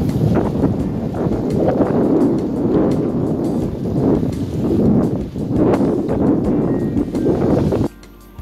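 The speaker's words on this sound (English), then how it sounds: "the wind is super strong right now." Strong wind at a lake beach batters the microphone, making a loud, constant roaring rumble that surges and eases in gusts for several seconds before cutting off abruptly near the end.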